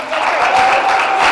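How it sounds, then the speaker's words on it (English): Audience clapping at a business presentation, a dense steady wash of applause running loud and continuous throughout the short span with no speech over it. "You can clap for that."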